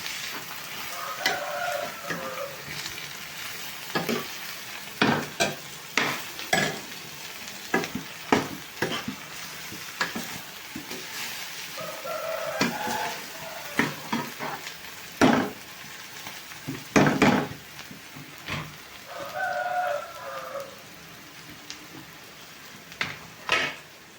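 A chili and prawn dish being mixed in a pan: repeated scraping and stirring strokes over a steady background sizzle, with sharp utensil knocks against the pan at irregular intervals, close and fairly loud.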